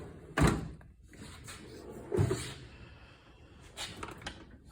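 A tool box drawer holding pliers slides open in a workshop, a few soft thumps and scraping clunks spaced apart, fairly quiet with no talking.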